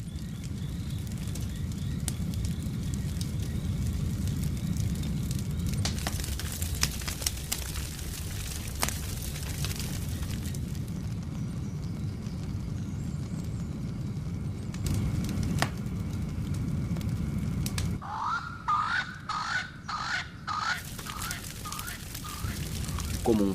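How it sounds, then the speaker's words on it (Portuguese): Fire burns through dry bush as a steady crackling roar with scattered sharp pops, near and loud, and birds chirp briefly toward the end. "Uma faísca mínima incendeia um arbusto."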